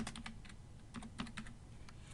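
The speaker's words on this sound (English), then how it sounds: "you type something like biggest value" Close, quick typing on a computer keyboard, irregular clicks and taps in short bursts with a sharper key press at the end.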